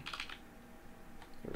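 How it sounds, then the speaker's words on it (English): Quick bursts of keystrokes on a computer keyboard, a short flurry at the start and a few more clicks near the end, fairly close with a quiet pause between. "Oops, I typed the wrong key."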